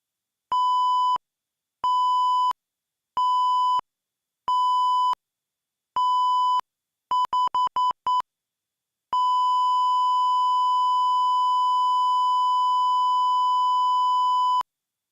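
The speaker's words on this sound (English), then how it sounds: "I'm just going to do beeps." Alert beeps from a day-trading futures platform: five evenly spaced tones, then a rapid burst of short pips, then one long unbroken tone lasting several seconds, heard alone without talk.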